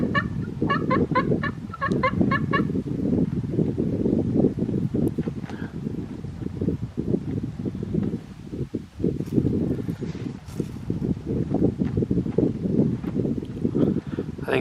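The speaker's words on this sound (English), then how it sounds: "I think it's a hen." A wild turkey hen yelps in a rapid series of short calls at a distance, under heavy wind buffeting and rustling outdoors.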